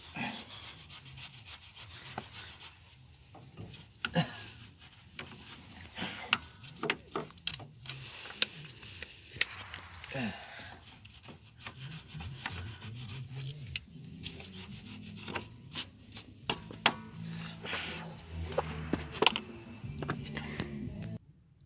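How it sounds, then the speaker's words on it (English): A brush scrubs around the upper ball joint area beneath a Dodge pickup, with steady, close rasping strokes that come in uneven bursts for about twenty seconds. "we're going to brush it off a little more here"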